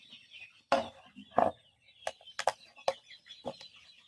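Free-range country chickens being weighed on a scale give scattered short clucks and squawks, close and moderately loud, amid handling knocks and quiet pauses.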